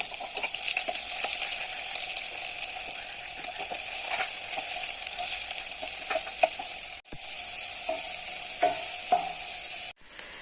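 Small onions sizzle in coconut oil while being stirred, making a bright, constant frying hiss broken by scraping clicks of the spoon and two brief cuts, close and without talk.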